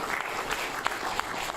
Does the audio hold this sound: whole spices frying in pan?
no